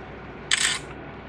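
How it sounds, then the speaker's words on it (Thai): A short, loud burst of bright mechanical buzzing from the autofocus motor of an HTC One V or Huawei Honor phone camera, lasting about a third of a second, close to the mic. "เสียงของการโฟกัส แล้วก็เสียงของชัตเตอร์นะครับ เสียงโฟกัสนี่ ดังมาก ๆ"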